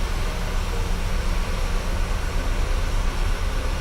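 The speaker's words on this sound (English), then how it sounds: "With the sound of the engines?" Engines of a PMDG 737 in Microsoft Flight Simulator, a steady dense roar that fills the whole clip at constant loudness with no other sounds over it.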